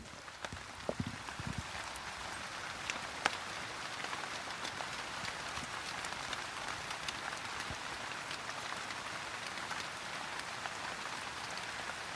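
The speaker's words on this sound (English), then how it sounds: "It's raining really heavily now" Heavy rain falling outdoors, a dense continuous patter of drops striking surfaces with occasional louder individual hits close by, steady throughout with no talk.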